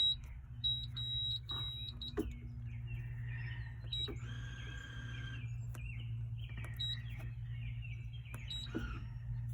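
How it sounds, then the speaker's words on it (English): A Hyundai PC250 excavator's computer warning alarm beeps in short high chirps over a low steady engine-room hum, repeating at intervals with scattered clicks, fairly faint. "We have an alarm for something that we can't read on the display."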